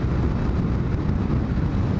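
Strong wind buffets the microphone during a ride on a Kawasaki W800 motorcycle, a dense continuous rumbling roar with no talking.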